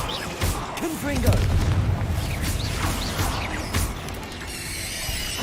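A blasting spell in the Hogwarts Legacy video game, a booming fiery explosion with crackling debris and mechanical rumbling, heard close alongside game voices.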